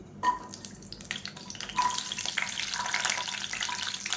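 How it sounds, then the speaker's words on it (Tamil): Whole small onions dropped into hot sesame oil for a green moong kulambu crackle and sizzle in short, uneven bursts that build into a steadier, soft frying hiss nearby. "இப்போ எண்ணெய் நல்லா சூடாயிருச்சு. இதில் பார்த்தீங்கன்னா ஒரு 20 சின்ன வெங்காயம் முழுசாக அப்படியே சேர்த்துக்கலாம்."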